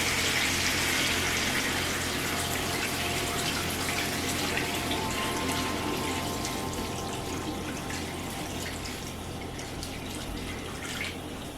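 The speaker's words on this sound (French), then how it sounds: "Une fois la sauce de tomate c'est fait déjà, on va mettre l'eau" Measured water poured into a paella valenciana pan over tomato sauce, a steady rushing pour close up that thins slightly toward the end, with no talk.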